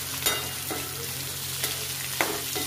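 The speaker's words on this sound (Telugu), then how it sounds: "సో మంచిగా ఫ్రై చేసుకుందాం అన్నమాట" Chicken and sliced onions fry in oil with a steady broadband sizzle, punctuated by a few sharp scraping stirs of a spatula in the pan; no voices.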